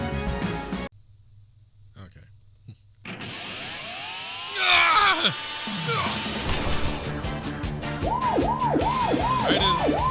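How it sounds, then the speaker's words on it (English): Police sirens wailing outside in the video game Live-A-Hero, rising and falling repeatedly and growing louder near the end, layered over game music and effects. "more sirens outside"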